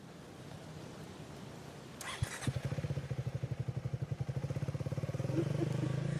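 A Triumph Scrambler motorcycle engine idles and revs nearby with a steady pulsing beat, a brief clatter or thump just before the rhythm settles in, moderately loud with no talking.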